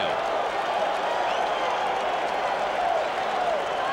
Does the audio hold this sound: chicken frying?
no